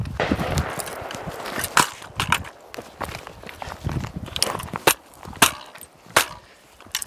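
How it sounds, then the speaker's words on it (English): An M4-style rifle is swung against a tree, giving a series of sharp woody cracks and thumps at irregular intervals amid rustling and shuffling movement outdoors. "I just like cracked this tree up"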